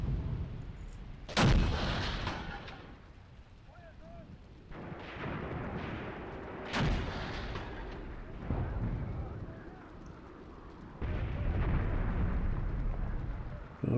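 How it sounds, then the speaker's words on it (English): 105 mm howitzers fire in the Graviteam Tactics war game, several heavy booming reports spread across the stretch, each trailing into a rumbling echo over constant battlefield noise. "that's our howitzers, our 105s that are firing there"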